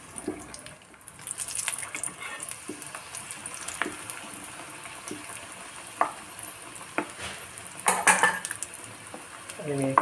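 Egg, onion and tomato samosas fry in oil. A faint, crackling sizzle sits under clinks and knocks of a pan and utensil, with a brief burst of handling noise near the end.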